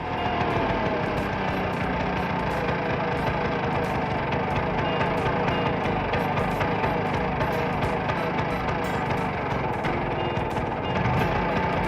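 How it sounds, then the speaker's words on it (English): A scooter engine runs continuously with a rapid, rattling putter, holding at an even, fairly loud level throughout with no pauses. "Scooter."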